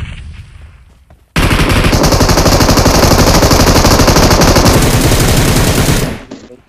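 Sustained automatic gunfire erupts in the mobile battle royale game PUBG Mobile on the Erangel map, a loud, dense rapid burst of shots lasting several seconds after a quieter start, then cutting off abruptly.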